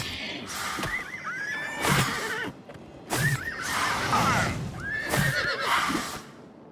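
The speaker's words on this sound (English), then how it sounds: "Alright, unicorn." A unicorn mount in the video game Oblivion Remastered gives three loud, close whinnies in succession, each a rising and falling squeal with breathy snorts in between and faint hoof clops.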